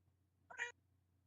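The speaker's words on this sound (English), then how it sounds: "So if y'all ever hear meowing and calls, God, I promise you it's not Beige, it's Ruf" A single cat meows once, a short clear call close to the microphone over a quiet low hum.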